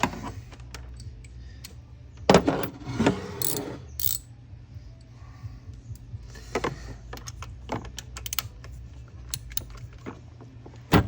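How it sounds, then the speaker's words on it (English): Ratchet-like mechanical clicks and a few louder clacks from removing old spark plugs on a Porsche Macan S at home, close and fairly quiet over a low steady hum. "We'll drop the old spark plug puller in there."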